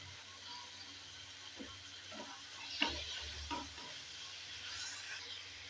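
Soy sauce goes into a sizzling pan of chili paneer, with a soft frying hiss under several stirring scrapes and a brighter burst of sizzle near the middle.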